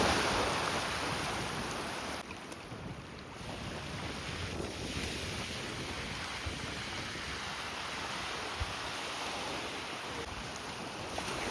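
Sea on the Black Sea shore at Chornomorsk, with the water pulled back from stones covered in mussels, heard as a steady wash of surf mixed with strong wind buffeting the microphone, with no talking.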